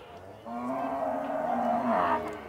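A dairy cow at the Campina Grande cattle fair in Paraíba lets out a long, loud, low moo lasting a couple of seconds, with faint fair ambience behind it.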